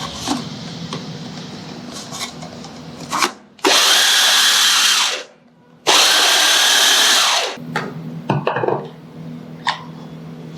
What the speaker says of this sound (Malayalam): നമ്മളിത് ബ്ലെൻഡറിൻ്റെ ചോപ്പറിൽ ഇട്ടൊന്ന് അടിച്ചെടുക്കുകയാണ്